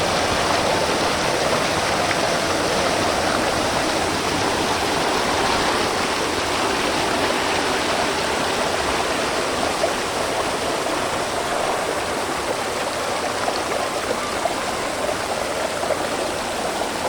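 Clear, cold water of the Manikmoyo waterfall pours steadily in a continuous, loud rushing roar that holds unchanged for the whole span, with no voices.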